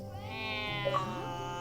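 A cat meows in the video game The Good Life, one clear drawn-out mew with bright harmonics over a steady tonal game background, near and alone.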